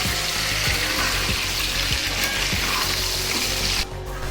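Tomatoes and mutton stirred in a karahi sizzle loudly and continuously up close, with repeated rhythmic scraping strokes of the spoon, and the frying noise drops away abruptly near the end.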